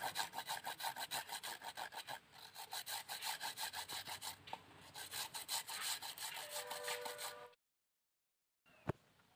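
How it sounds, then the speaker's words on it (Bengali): Ripe tamarind is rubbed and grated by hand in a fast, even series of rasping strokes, then a short pause and a single sharp tap. "তেঁতুলটাকে আমি ঘষে নেব।"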